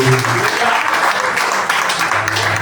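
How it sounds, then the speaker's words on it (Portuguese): A church congregation at a worship service breaks into steady applause, with close, dense clapping and voices heard over it. "Você que pode, aplaude e glorifica o nome do Senhor."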